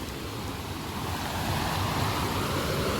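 Steady, loud rushing water churns continuously through a drain swollen by heavy rain, a broad roaring wash with no pauses and no voices.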